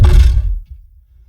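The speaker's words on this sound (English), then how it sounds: "so human vocal burp," A single short, low, raspy human belch, unprocessed, loud and close, fading out within half a second.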